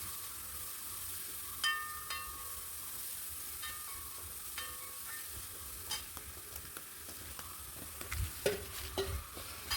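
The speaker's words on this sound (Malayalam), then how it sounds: "അതിലേക്ക് തന്നെ നമ്മൾ അരിഞ്ഞു വെച്ചിരിക്കുന്ന സവോളയും ഇഞ്ചിയും വഴറ്റിയെടുക്കാം" Chopped onion and ginger sautéing in a pan, a faint steady sizzle with soft scattered scrapes and stirring clicks from a utensil, quiet and close with no talk.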